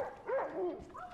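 A dog whimpering and yelping in the video game Far Cry: New Dawn: a few short, pitched whines and yips over about a second, moderately close, with a faint voice underneath.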